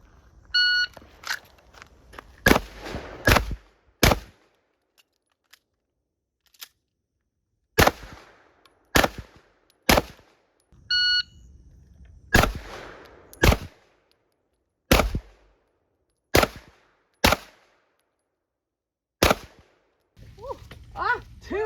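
Pistol shots at a shooting range while comparing a Canik TP9 Elite Combat and a Walther PPQ M2 Q4 TAC, sharp cracks fired in quick rapid strings and singles, separated by quiet pauses, with timer beeps.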